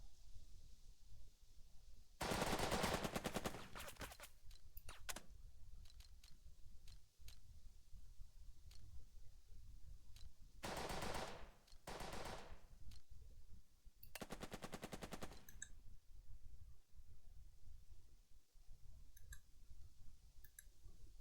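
Rapid bursts of gunfire in the video game Burden of Command, with several rattling machine-gun volleys and scattered single shots separated by quieter stretches, faint and distant overall.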